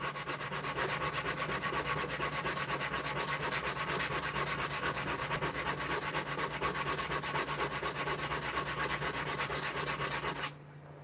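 Someone sands a wooden bevel by hand, with steady rapid rasping back-and-forth strokes heard close and loud for about ten seconds before stopping, with no talking.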